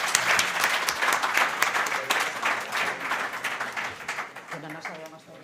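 Audience applause at a gastronomy forum in Aragón, a dense, steady clapping from a seated crowd that slowly thins out, with a voice starting to speak over it near the end.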